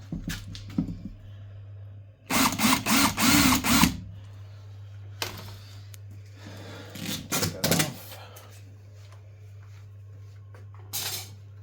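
A power drill whirs in several short bursts, boring into timber up close while fitting a fireplace mantel or floating shelf, with a steady low electrical hum between runs.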